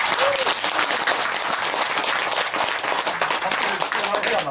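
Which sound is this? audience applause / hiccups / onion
audience applause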